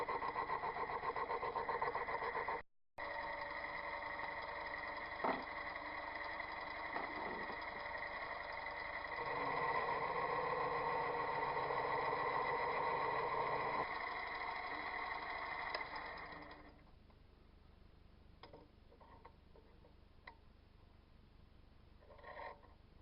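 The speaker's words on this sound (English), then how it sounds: "I'm just going to do a skim cut right now until I get past all the irregularities" A metal lathe takes a skim cut on a spindle being built, giving a steady machining whine with a tonal hum that runs close and loud for about sixteen seconds, then drops to a quiet hum with small clicks.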